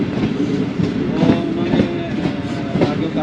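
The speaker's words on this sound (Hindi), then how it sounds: "और फिर ट्रेन चली है" The Awam Express passenger train rolls on its rails, a steady loud rumble of wheels with rhythmic clickety-clack beats, heard from onboard with no talk.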